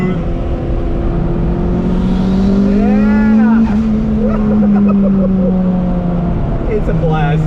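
A 2001 Acura Integra GS-R engine climbs in pitch as it accelerates, a loud continuous rising drone with a shifting tone midway, heard close from inside the car.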